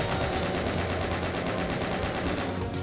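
Rapid gunfire from shooting chaingunners in Doom, a dense, steady stream of shots layered over continuous game noise, loud and unbroken throughout.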